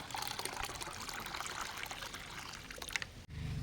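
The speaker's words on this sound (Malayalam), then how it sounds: "നമുക്ക് ഒരു ലിറ്റർ വെള്ളം കൂടെ ഒഴിച്ചു കൊടുത്ത് ഒന്ന് നല്ലോണം ഒന്ന് നേർപ്പിച്ചെടുക്കാം" Water is poured into a rice-water fertilizer to dilute it. The pour is a quiet, close, steady trickling splash that runs for a few seconds and then stops abruptly.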